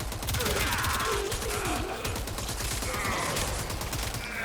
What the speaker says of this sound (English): This is the Stulta. Kind of like the Quailor, though it's more of an assault rifle than a machine gun.